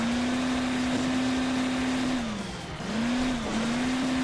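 An engine drone from a car in the mobile racing game Hill Climb Racing 2, holding a steady pitch, then dipping and recovering twice as it bounces over terrain, loud and close with no talk.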